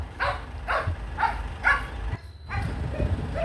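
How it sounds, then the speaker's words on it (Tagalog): A pet dog barks in a run of four or five sharp, evenly spaced barks, fairly close and loud, then pauses briefly before a softer follow-up, outdoors beside a dwarf coconut tree being cleaned. "Kaingay naman ng alaga kong aso"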